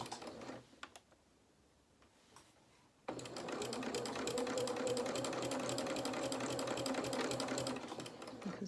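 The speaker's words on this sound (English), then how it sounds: "just do a couple of stitches forward and back just to anchor those threads in the seam allowance" Domestic sewing machine stitching a fabric seam while making dungarees, a rapid even mechanical rattle that starts abruptly after a brief near-silent pause and runs steadily to the end, close and clear with no speech.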